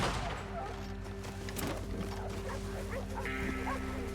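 Dogs in the video game Red Dead Redemption 2 bark and yip in short bursts amid gunfire-like pops and game ambience, with a steady tonal hum underneath.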